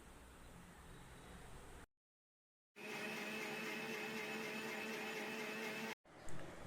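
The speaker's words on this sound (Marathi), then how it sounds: "ही आपण चटणी मिक्सरला लावून घेणार आहोत" A mixer grinder blends chutney for pani puri in two loud, steady whirring runs, close by, separated by a brief silent pause, and a third run starts just at the end.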